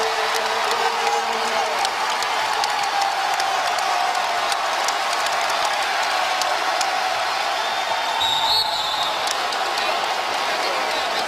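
A large, rowdy crowd roars steadily through a college basketball game between the Duke Blue Devils and Boston College Eagles at Boston College, a constant wash of cheering and noise with whistles and shouts poking through.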